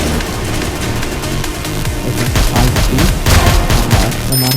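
Dense, continuous gunfire from a shooter video game, with rapid bursts and booms layered thickly throughout, loud and sustained with no pause.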